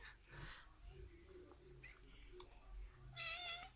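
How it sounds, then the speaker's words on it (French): Kittens meowing in a series of short, high cries, the clearest near the end, over steady background rumble with a voice murmuring softly beneath. "Les petits chats."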